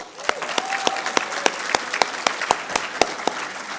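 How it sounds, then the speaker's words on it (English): An audience gives a round of applause at an evening event honouring Savita, with steady rhythmic clapping in a moderately sized room; individual hand claps stand out in a regular beat over a diffuse wash of clapping. "I think we should have a nice round of applause for Savita."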